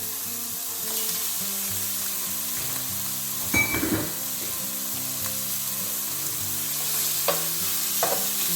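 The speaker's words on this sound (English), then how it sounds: "we're going to add the Italian sausages." Italian sausages frying alongside browned lamb in a pot, a steady close sizzle with brief stirring clatters, no talk.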